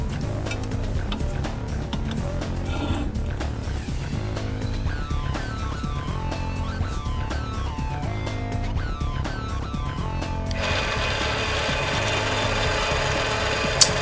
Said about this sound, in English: Carefully line up the drill and drill through in a controlled way, not forcing the drill.